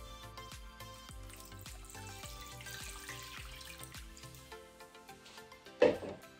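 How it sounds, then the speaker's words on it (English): Tap water pours into a glass bowl over raw beef, a soft running trickle beneath faint background music, ending with a brief louder splash or clink near the close. "here I'm gonna add in some tap water"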